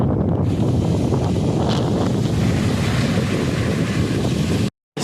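Strong wind at a Tasmanian beach buffets the microphone in a steady roar, with faint surf beneath, before cutting out abruptly near the end.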